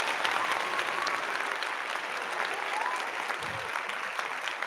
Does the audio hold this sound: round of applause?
yes